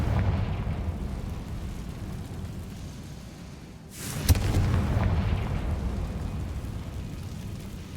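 Confringo fire spell in Hogwarts Legacy: a single sharp blast bursts out of a low rumbling game ambience, then a broad roaring tail slowly fades.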